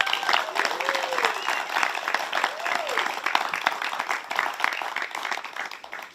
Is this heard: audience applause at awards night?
yes